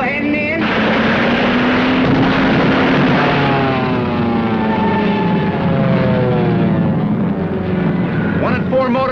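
Loud, steady drone of a World War II bomber's piston engines in flight, with the pitch slowly shifting throughout, and a voice speaking over it.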